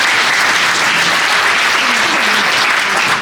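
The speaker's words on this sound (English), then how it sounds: "Let's give him a round of applause" A loud, dense round of audience applause for performer Comrade Majesty Mnyanda at a COSATU anniversary gathering, continuous clapping filling the whole moment with a faint voice murmuring underneath.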